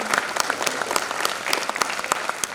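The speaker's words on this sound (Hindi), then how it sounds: "और एक बार जोरदार ताली इन सभी" An audience claps loudly and continuously for the cast after a Magahi comedy stage drama, in a brief burst of close, dense applause.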